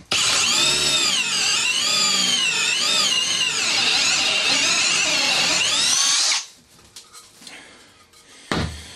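A Milwaukee M18 Fuel combi drill with a worn bit whines loudly for about six seconds, its pitch rising and falling as it bores, then stops, leaving faint clatter and a brief knock.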